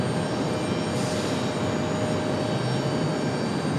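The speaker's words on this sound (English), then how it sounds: "American 174 heavy cleared for takeoff already" American 174 heavy airliner taking off at Raleigh-Durham International Airport, a constant dense engine rumble and roar with no breaks, fairly distant.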